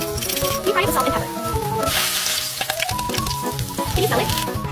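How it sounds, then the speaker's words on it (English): Onions sizzling in a pan, seasoned with salt and pepper, a steady close crackle and hiss running throughout under a cartoon-style music bed. "We fry it with salt and pepper."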